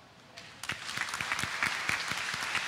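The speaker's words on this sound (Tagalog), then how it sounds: "mas malakas na palakpakan para sa Diyos" Congregation at a Filipino faith service breaking into applause for God, starting sparse then swelling into steady, loud clapping from a large crowd with a few sharp claps standing out nearby.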